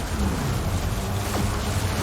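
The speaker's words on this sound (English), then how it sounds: "Have some Warp Lightning, Warp Lightning," Warp Lightning spell striking in the video game Total War Warhammer 2, a loud, rumbling crackle of battle noise that roars steadily throughout with no talking.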